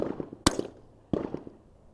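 Two sharp cracks from a Vudoo Gun Works V-22 rimfire rifle firing at a 400-yard range, spaced well apart, each followed by a brief outdoor echo decaying into quiet.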